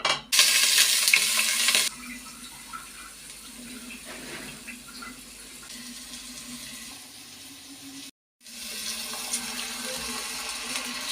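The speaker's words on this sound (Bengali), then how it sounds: "এখন আমি এক এক করে তেলের মধ্যে সবগুলো উপকরণ দিয়ে দিচ্ছি।" Whole spices and other ingredients dropped one by one into hot oil in a pan on a switched-off stove, giving a bright burst of sizzling at first, then a quieter steady frying hiss with light stirring, alone without talk.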